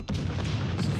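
Warship main guns fire a salvo in World of Warships Legends, a loud, close, rumbling boom that swells in and rolls on for the full second.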